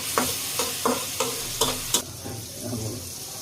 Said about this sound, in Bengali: মটর ভাজা তেলের মধ্যে ভালো করে ভেজে নিব।